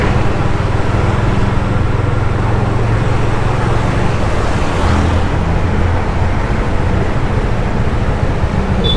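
Road traffic in Bangalore heard from a motorbike during a ride, a loud, steady rumble of engines and passing vehicles mixed with wind rush, without speech.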